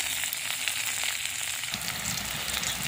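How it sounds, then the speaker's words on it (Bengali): Neem flowers fry in a pan with five-spice, dry red chilli and onion, a loud, close, continuous sizzle with crackling that thickens partway through, with no voices. "নিম ফুলটা দিয়ে 5 ফোড়ন, শুকনো লঙ্কা, পেঁয়াজ দিয়ে দিয়েছি। এইভাবে ভাজা ভাজা করে নিচ্ছি।"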